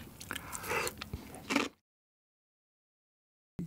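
Crispy tomato-sauced fried chicken is bitten and chewed up close, giving a burst of crunchy bites and squishy chews for under two seconds before silence.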